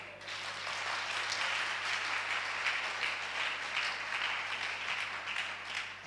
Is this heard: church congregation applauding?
yes